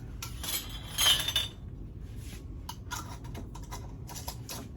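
Glass jar lids clinking against each other and a metal pan during cherry jam making, a cluster of bright clinks early then scattered lighter taps and rattles, close and fairly quiet, with no talk.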